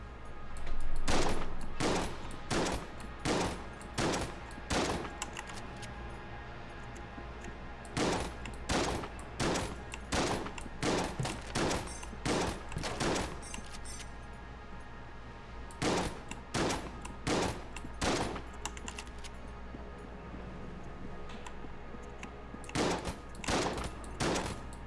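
Shotgun blasts in the game Enter the Gungeon fire in a long series of sharp, loud bursts, spaced roughly evenly with brief pauses between volleys.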